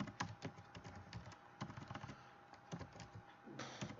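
Rapid, continuous clatter of keys being typed on a computer keyboard, steady and close, with no voices.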